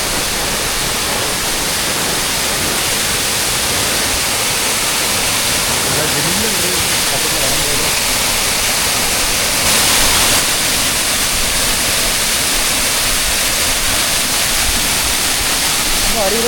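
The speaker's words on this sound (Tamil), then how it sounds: "இந்த ஃபால்ஸ் பேர் வந்து கரிமுத்தி வாட்டர் ஃபால்ஸ்." The Karimutti waterfall near Munnar, a small fall running with plenty of water, gives a loud, constant broadband rush heard up close, with a voice faintly mixed in.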